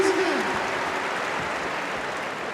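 Dense, continuous crowd applause fills the hall at a dog agility final, a steady broad wash of clapping that holds at even loudness throughout, with a brief voice or tone near the start.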